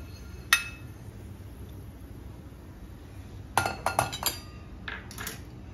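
Fried fenugreek being scooped with its oil out of a pan, heard as a few faint, sharp clinks of a utensil against the metal, one early and a short cluster later, over a quiet background.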